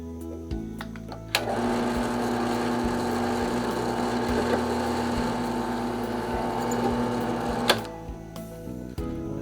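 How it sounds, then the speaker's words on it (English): A drill bores the front pin hole through a knife handle scale, a steady high whine that starts after a short pause, runs for about six seconds and stops, with bits of handling noise around it. "we'll go ahead and drill the front pin."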